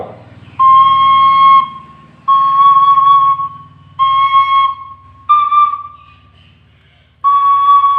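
A Thai khlui flute in C sounds a series of long sustained notes, each held for about a second with short breaks, loud and close, the pitch shifting slightly.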